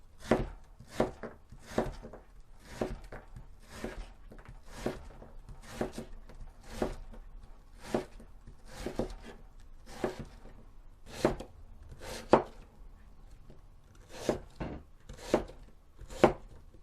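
A knife chops radish into pieces on a cutting board while making Korean beef and radish soup, with steady close knocks in an even rhythm, about one per second, with no talk.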